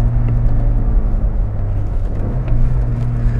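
A Chevrolet Kadett GS is driven sportily from inside the cabin, its engine a low, steady droning hum with slight rises and falls in pitch as it pulls.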